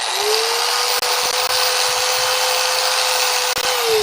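Loud, steady high-pitched whine of a chainsaw carving a wooden bear, with the fern detail being cut. The motor runs continuously close up, with a few brief dips at the end.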